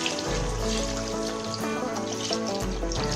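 Water poured steadily into a pot of beef nihari, a continuous close pouring and splashing sound running the whole time with no talk.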